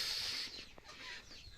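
Hens cluck inside a coop in the morning, a soft, fairly distant burst of fowl calls that comes and goes over a low background.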